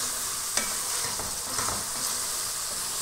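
Bitter gourd curry is sautéed in a pan with a close, continuous sizzle, broken by a few sharp scrapes and taps of a spatula as it's stirred.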